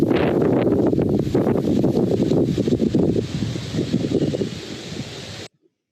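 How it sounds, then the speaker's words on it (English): Strong wind gusting outdoors around a Christmas light show, a loud, continuous roar with buffeting against the microphone for about five seconds before cutting off abruptly. "I'm going to show you guys what kind of wind I had for 2019."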